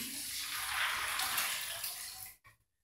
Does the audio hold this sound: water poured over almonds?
yes